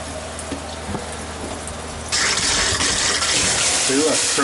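An RV faucet is opened and water rushes out in a steady gush, jumping from a quiet hum to loud continuous flow partway through, with a few faint clunks and brief voice sounds underneath.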